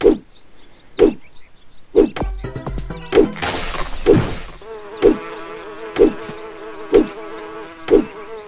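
Bees buzz in the video game My Time at Portia, a steady insect drone under evenly spaced loud percussive hits about once per second, with a burst of crashing impacts in the middle.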